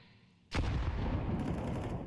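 A grenade in Counter-Strike on the de_ancient map goes off with a sudden close boom about half a second in, followed by a sustained rumbling, noisy tail.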